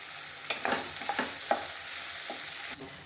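Tomato and Schezwan sauce frying in a pan for a macaroni snack with vegetables, a soft steady sizzle broken by a few scraping stirs of the spoon, quiet and close, no talking.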